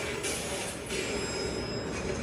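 Cartoon train rolling along rails, a steady loud rumble with squealing wheels and a high metallic whine, heard alone without talk.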